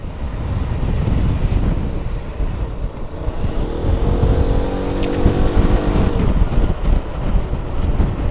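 A 2022 Yamaha XMAX 300 scooter hums along on the road with steady engine drone under heavy wind rush, and a brief rising tone in the middle as it pulls forward.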